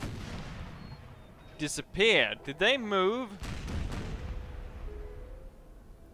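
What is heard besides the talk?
cannon fire in the video game Napoleon Total War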